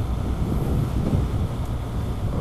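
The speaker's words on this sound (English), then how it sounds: "Top of the hill here, wind's blowing," Wind gusts across a hilltop during a dirt motorcycle ride near Muenster, a loud, continuous rumbling buffet on the microphone with no talking.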